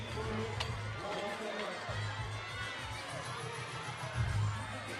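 Athletes at a CrossFit regional women's event cheer on fellow competitors in the closing minutes, with crowd shouts and whoops rising and falling at a moderate distance and some talk mixed in.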